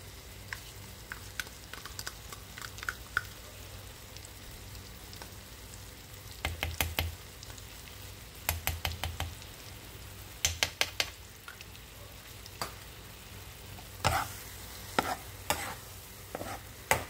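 Condensed milk filling for a banana ube crepe stirred in a pan: intermittent clusters of sharp spoon scrapes and taps against the pan over a low steady background hiss, with quiet pauses between bursts.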